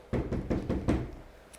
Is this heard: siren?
no